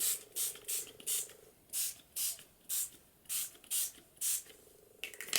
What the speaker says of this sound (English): Now I'm just going to spray this